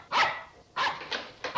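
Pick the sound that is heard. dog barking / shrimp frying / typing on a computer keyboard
dog barking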